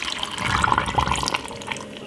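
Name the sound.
water poured into a green smoothie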